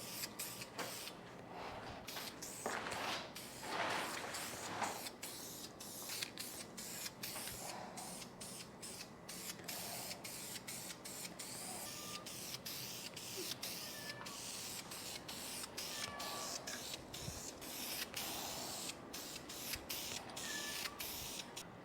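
A spray gun lays a fresh coat of paint on a car wheel in a home garage, a faint hissing spray repeated in short bursts with brief pauses between them, no voices.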